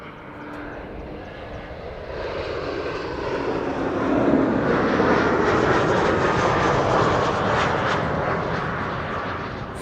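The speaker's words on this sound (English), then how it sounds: "KLM, flight 1450 arriving from Toulouse" A KLM airliner arriving at Amsterdam Schiphol on a sunny day, its engine roar swelling from a distant rumble to a loud, steady broadband wash that holds through the end, with no talk over it.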